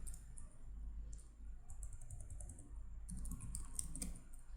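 Quiet, light clicking of computer keyboard keys as Python code is typed, in soft irregular bursts over a low background hum.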